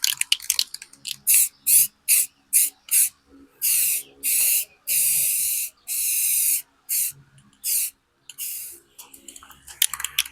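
Spray paint hissing onto the top rail of a decade-old utility trailer, a rapid series of short, loud bursts followed by longer sustained sprays, close up.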